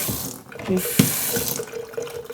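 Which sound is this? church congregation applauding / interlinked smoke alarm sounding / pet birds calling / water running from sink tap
water running from sink tap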